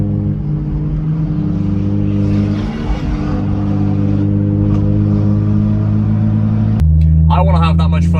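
A BMW M240 engine rumbles at a steady drone, heard from nearby on a motorway with a low, throaty hum that swells slightly, then shifts sharply near the end as a voice briefly speaks over it.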